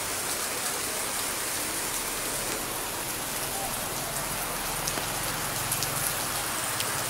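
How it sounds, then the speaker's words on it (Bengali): Heavy rain pours steadily on surfaces in Bandarban, a dense, constant broadband hiss with scattered drop impacts, close and loud, no voices. "বৃষ্টি আবারও হচ্ছে,"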